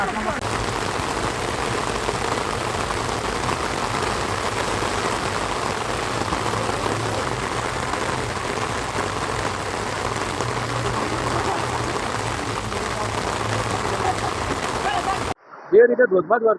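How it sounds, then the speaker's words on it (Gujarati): Heavy rain pours steadily and loudly throughout, a dense continuous hiss of drops, ending abruptly with a brief burst of other noise. "જે રીતે ધોધમાર વરસાદ"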